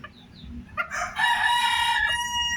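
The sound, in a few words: bantam rooster crowing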